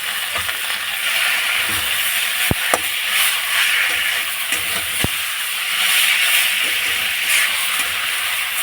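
Grated potato frying in a pan with a steady, close hiss of sizzling, broken now and then by sharp clicks from stirring or the utensil touching the pan.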